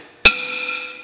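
A sharp metallic strike on a brake drum being resurfaced on a lathe, followed by a sustained, high, bell-like ring that hangs on steadily for about a second, alone.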